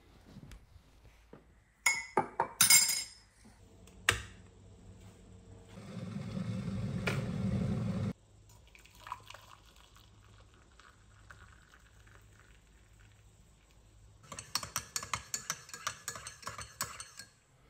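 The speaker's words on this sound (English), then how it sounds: "Make a cup of coffee." Coffee being made in a kitchen during a break from plastering a staircase: sharp clinks of cups and spoons, a stretch of kettle water rumbling toward the boil, then a run of quick light tapping clinks.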